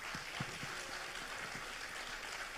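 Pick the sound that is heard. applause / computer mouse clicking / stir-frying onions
applause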